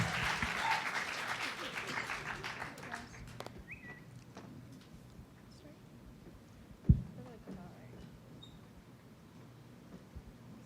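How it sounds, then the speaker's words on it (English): Audience at a USC student debate gives a round of applause that is strongest at the start and thins to scattered claps, with a sharp thump near the middle and quiet room noise after. "Let's give a round of applause for DC and Sara for opening up our debate."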